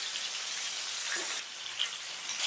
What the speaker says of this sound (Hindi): तो मछली तलने का एक टाइम होता है तो आप इसको तुरंत ही ना पलटें